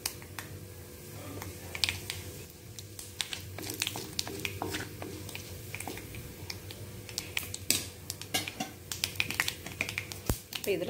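Mustard seeds popping and spluttering in hot oil in a kadai while tempering for a chutney, a dense run of sharp crackles and pops over a steady sizzle, fairly close.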